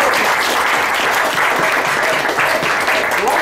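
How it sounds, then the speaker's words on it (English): An audience claps after a teen group's performance of traditional Ugandan dances, loud and sustained applause with a few scattered shouts mixed into the clapping. "please, another round of applause"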